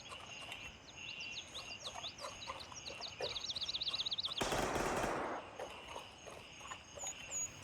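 Rapid bursts of automatic gunfire in the game Gray Zone Warfare, with a loud blast in the middle and chirpy electronic tones over the mix.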